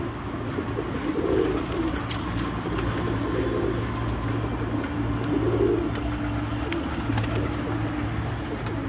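Pigeons coo on a rooftop loft in Sheikhupura district. Low, rounded coos repeat every couple of seconds over a steady hum of background noise, close by and moderately loud.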